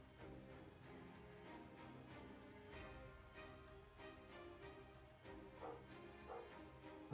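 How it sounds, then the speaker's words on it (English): A dog barks and whimpers in a game scene from Final Fantasy VII Ever Crisis, with short yips and whines over a steady bed of music and effects, fairly quiet in the mix. "Dog voice."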